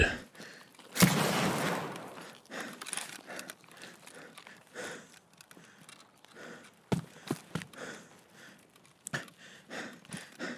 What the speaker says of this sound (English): It sounds like shooting far away